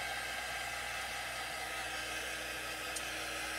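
A hair dryer blows steadily at close range to dry chalk paste on a wooden porch easel sign, an unbroken airy whir with a constant motor hum throughout.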